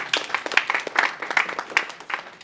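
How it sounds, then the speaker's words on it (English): An audience at a 2020 Folk Alliance Conference panel applauds a panelist, with moderate, irregular hand claps that come in uneven bursts for a couple of seconds. "Y'all give her a round of applause."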